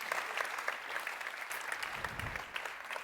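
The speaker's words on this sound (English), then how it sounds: "a bit of a round of applause, please, for Army." Audience applause at the launch of the all-new 2019 Porsche 911 (992), a steady, fairly close burst of many people clapping that holds evenly throughout.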